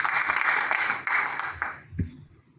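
Audience applause at an Iqbal Day gathering as a speaker is invited to the stage, a moderate burst of clapping that fades out after about two seconds, no talking over it.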